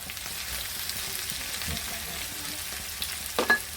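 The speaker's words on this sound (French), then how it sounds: "Il nous reste donc à mélanger tout ça." A garlic vegetable stir-fry sizzles softly in a pan while a spatula stirs it, with a few scraping strokes and a sharper clatter near the end, faint and free of talk.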